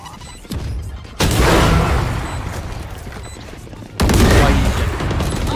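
Explosions in the Valorant video game: a sharp, loud blast erupts and roars on with heavy rumbling, then a second big burst hits about three seconds later and rumbles on, with faint speech underneath.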